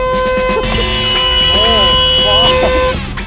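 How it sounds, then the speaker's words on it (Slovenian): A car horn blares in a long steady blast lasting most of the few seconds, loud and close, with people talking and exclaiming over it during a prank. "zakaj pa trobiš? Hupa je to"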